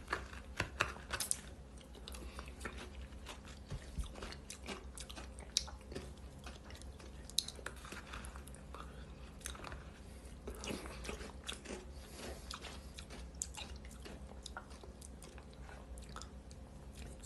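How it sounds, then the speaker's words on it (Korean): Crunchy chewing of kkakdugi, Korean cubed radish kimchi, eaten with a hearty bowl of gukbap, with close, steady crisp bites and mouth sounds running throughout without talk. "지금 깍두기 씹는 거"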